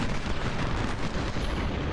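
A dense, rumbling wash of musket volleys and cannon fire from a Civil War battlefield in the strategy game Ultimate General: Civil War, continuous and distant-sounding with no distinct individual shots.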